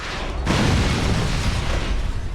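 A loud explosion from The Incredible Hulk: Ultimate Destruction, a video game, bursts in after a short lead-in and becomes a dense, rumbling roar of debris that holds strong to the end.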